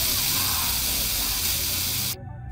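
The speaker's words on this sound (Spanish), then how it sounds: "El gas lacrimógeno es un compuesto químico hecho polvo que se pulveriza a través de un aerosol." Tear gas jets from an aerosol canister in one continuous loud, broadband hiss lasting about two seconds, then cuts off abruptly to near silence.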